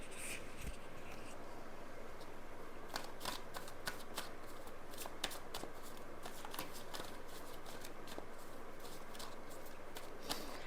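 Tarot cards being shuffled, a steady soft papery riffling with brief crisp snaps scattered through, close by and fairly quiet, with no voices.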